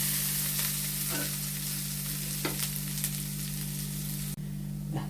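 Cashews and grated coconut fry in a pan with a quiet, steady sizzle, a few scraping stirs and a low background hum.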